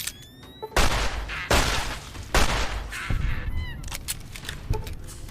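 Gunfire in Fallout: New Vegas comes as several loud, sharp shots spaced about a second apart, each a heavy crack with a decaying tail, mixed with faint game sounds between them.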